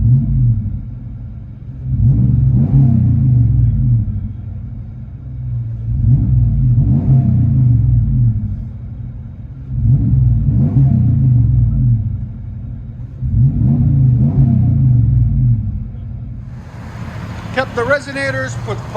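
Inside the cab of a RAM 1500 with a HEMI V8 and Flowmaster 40 Series exhaust with 5-inch tips, a deep engine drone pulses up and down in repeated revs. Talking rises above it near the end.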